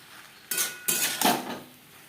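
Fried potatoes and pointed gourd tipped into cooked masala in a pan and stirred, giving three short metallic clanks and scrapes of utensil against pan, close and otherwise quiet.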